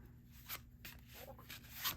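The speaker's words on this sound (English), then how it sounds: "Because of the cross grain texture of these cards, they do make a little bit more sound" Soft, brushy riffling of cross-grain textured playing cards in quick bursts, a papery rubbing texture rising and falling several times, close and quiet.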